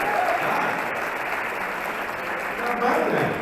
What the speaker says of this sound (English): please give a round of applause to Ashley Whitby from George Mason University